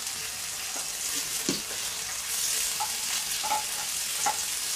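Red and green Caspian peppers, celery and courgette stirred in a hot pan, a continuous soft sizzle with scattered light scrapes and taps of the utensil, close and with no talking.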